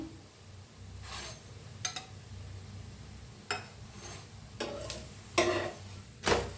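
Puran poli flatbread roasting on a pan with ghee spread on both sides over full heat, a soft continuous sizzle broken by several brief scraping and spatula strokes at irregular intervals.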